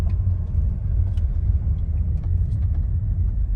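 A Mercedes-Benz ML350 with the OM642 diesel engine, fresh from an oil cooler seal replacement, runs steadily while driving slowly up a driveway. It gives a constant low rumble with no talk over it.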